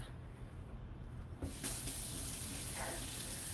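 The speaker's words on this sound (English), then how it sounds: "I'm running it under hot water" Hot tap water running over a metal bottle cap, a soft hiss that turns into a louder, brighter steady splashing stream partway through, fairly faint overall.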